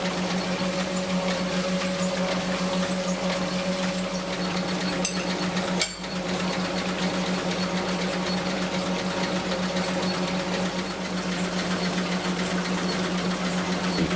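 A honing tool runs inside a Ferrari 308 cylinder bore, giving a steady, close mechanical whir with a constant hum and a brief knock around the middle, continuous throughout with no talking.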